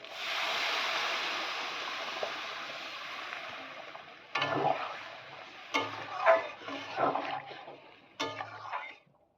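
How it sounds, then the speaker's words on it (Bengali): Water pours into a pan of spiced masala with turmeric and potatoes while Shankar fish curry cooks: a sustained rushing hiss that drops off, then a run of scraping stirs and clinks. "এবার দিয়ে দেবো জল"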